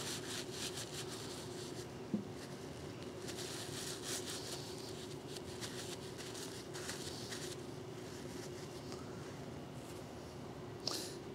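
Paper towel rubbed steadily back and forth over brake caliper pins to wipe off old grease during a disc brake pad and rotor service, a continuous faint scrubbing with a couple of small clicks, close, no talk.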